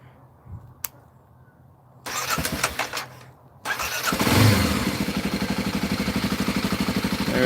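A warm Kawasaki KLX 250 S motorcycle is cranked with a brief whirring starter burst, then fires and settles into a close, rhythmic, pulsing idle; a single sharp click comes just before.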